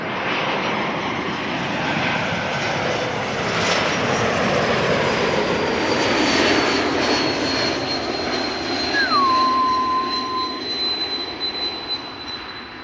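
A Swiss airliner jet landing at Amsterdam Schiphol Airport gives a loud, steady engine roar that holds throughout, with a rising-then-falling whine near the end as it slows on the runway.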